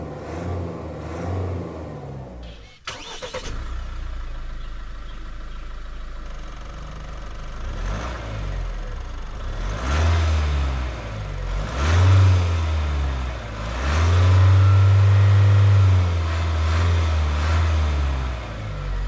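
Diesel engine of a 2023 Mahindra Scorpio turbo-diesel SUV heard from inside while driving, a steady drone with low rumbling surges as it pulls and revs, slight clatter, no talking.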